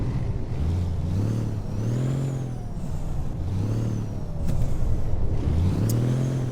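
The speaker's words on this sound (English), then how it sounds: "start the engine up" A Freightliner FLD truck engine in American Truck Simulator idles with a steady low rumble, with deeper revving swells rising and falling several times throughout.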